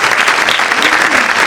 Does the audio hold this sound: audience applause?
yes